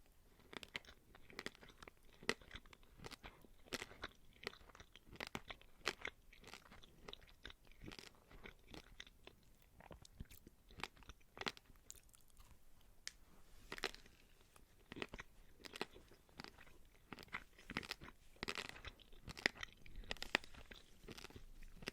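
Close, crisp crunching and chewing of fairy bread, an Australian and New Zealand treat of buttered bread with sprinkles, in a steady run of bites over nearly twenty-two seconds with no talking.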